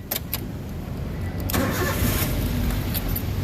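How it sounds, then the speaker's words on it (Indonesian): A 2013 Daihatsu Terios 1.5 TX with manual gearbox, in neutral, starts up: brief cranking clicks, then the engine catches cleanly at about one and a half seconds and settles into a steady close idle, with no talking. "Oke, sekarang kita coba nyalakan mobil."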